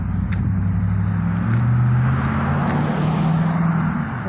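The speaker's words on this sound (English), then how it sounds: "apologize for the traffic noise" Street traffic passing by on a residential road at lunch hour, cars humming and swelling in a continuous loud roar with engine drone rising and falling, close by, no talking.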